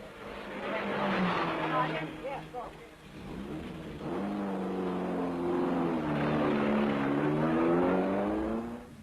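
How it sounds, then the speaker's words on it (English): An Alpine race car at the 1961 Le Mans 24-hour race, its engine droning and sweeping in pitch as it approaches the pits, heard under continuous commentary. "But in comes the other Alpine, driven by the rally partnership of Peter Ha"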